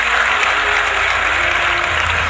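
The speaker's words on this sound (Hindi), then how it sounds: "एक बार जोरदार तालियां।" Loud, steady applause from a large audience at a public address by the Prime Minister in Uttarakhand, dense clapping filling the whole stretch without letup.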